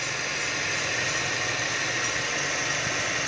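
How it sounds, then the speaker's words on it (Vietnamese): A 2010 Kia Carens with the 1.6 engine runs smoothly at idle, giving a steady, unbroken hum close by with no voices over it. "có máy móc nè, rất là êm ái"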